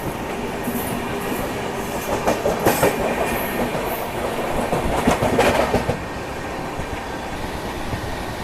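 The Ranchi Rajdhani Express gathers speed on the rails, a steady rumble with rhythmic clickety-clack bursts of wheels over rail joints that build and fade. No one speaks.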